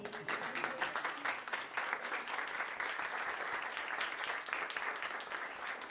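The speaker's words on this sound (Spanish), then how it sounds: "¿se puede hacer un aplauso continuo?" Continuous audience applause at a book presentation, a fairly quiet but sustained patter of many hands clapping throughout at a steady level.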